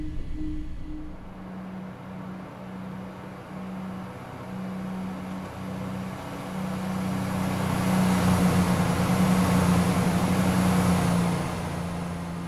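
A train runs through the 418-yard Inverkeithing Tunnel, heard from the driver's cab as a steady mechanical drone and rumble that swells gradually louder over about twelve seconds, a low hum running underneath throughout.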